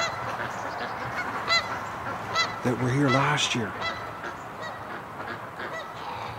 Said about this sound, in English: I wonder if this is the same geese